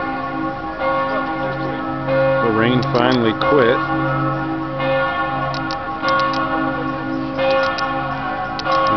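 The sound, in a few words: church bells tolling at night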